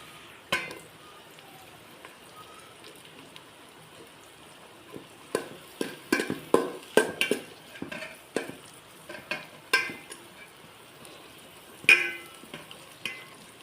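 Carrots and other vegetables frying in palm oil in a pan while cooking vegetable pulao, with a soft steady sizzle under a series of irregular scraping stirs and clinks, some clustered quickly together, fairly quiet and close.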